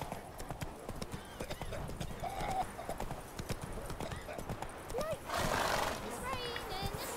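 Geralt's horse Roach gallops in The Witcher 3, with rapid rhythmic hoofbeats and a whinny partway through, close and clear, mixed with game ambience and bits of voice.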